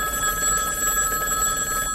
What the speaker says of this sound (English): A ringing phone.